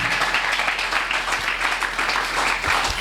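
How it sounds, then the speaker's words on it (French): A church congregation applauds and acclaims Jesus at a worship service. The clapping is loud and continuous throughout, with voices mixed into it. "Est-ce que tu peux encore acclamer Jésus"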